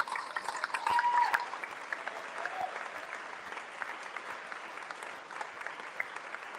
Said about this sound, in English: If you wouldn't mind just giving a round of applause for Abby